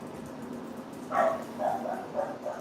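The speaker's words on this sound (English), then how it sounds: "Oh, now they're gonna bark outside." Several dogs bark outdoors at a distance, a short run of faint yaps and woofs coming in uneven bursts over a low steady background.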